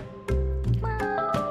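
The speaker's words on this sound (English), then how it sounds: "Oh, there's so many cats" Several cat meows from a cat in Bali, close and clear, with short tonal cries spaced across a brief moment.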